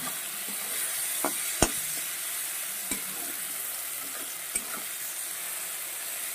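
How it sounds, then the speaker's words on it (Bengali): Chopped tomato, onion, garlic and chilli fry in a pan with a steady close sizzle, punctuated by sharp pops and scraping stirs of a spatula. "বেশ সুন্দর করে পেঁয়াজ, রসুন, টমেটো, লঙ্কা ভেজে"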